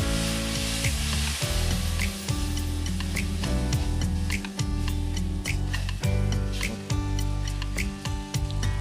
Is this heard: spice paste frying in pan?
yes